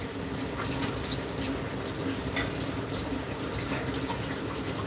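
Kitchen tap water runs steadily into a sink while a cooking surface is rinsed clean, a continuous close splashing wash with no voices over it.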